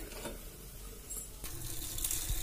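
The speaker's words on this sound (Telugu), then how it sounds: "నీళ్ళు వంచేసుకుని ఒక ప్లేట్లోకి తీసుకున్నాము" Cooking water is tipped off boiled cauliflower, giving a faint, steady pouring wash with a small splash partway through. Heard quietly and alone, without speech.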